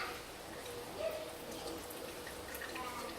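Water gently washing fig seeds being scraped clean in Cambodia, heard as a faint, steady trickle and soft splashing throughout, quiet and close with no distinct drips standing out.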